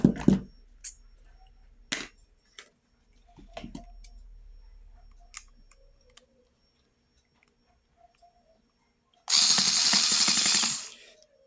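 A screwdriver working screws out of a Makita 9553B angle grinder during armature replacement: sparse metallic clicks and scrapes, then a loud harsh burst of grinding noise near the end.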